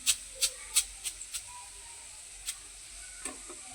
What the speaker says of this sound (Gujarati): જો આવી જ રીતે આપણે બીજા મસૂર એમાં તળાવા નાખવાના છે।